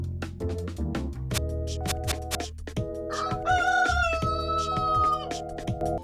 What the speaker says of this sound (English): A rooster? That's a new one.